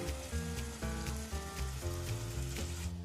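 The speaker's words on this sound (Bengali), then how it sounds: "মশলাটা যাতে তলায় লেগে না যায় বা পুড়ে না যায় সেই জন্য একটু মাটনের স্টক দিয়ে আবার মশলাটাকে কষাবো" Spiced masala being sautéed with a splash of mutton stock in a pan for kala mutton, giving a soft, steady sizzle heard close but quietly, alongside faint tonal sounds and no voices.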